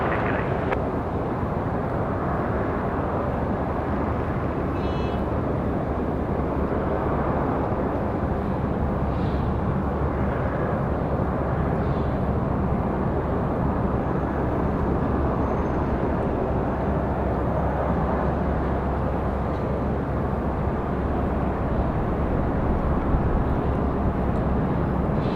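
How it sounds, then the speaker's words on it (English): United Boeing 737 arriving from Denver and touching down at Raleigh-Durham International Airport, a steady, broad jet roar heard from a distance, holding level throughout without speech. "United 2269 coming in from Denver. I'm about to touch down right now."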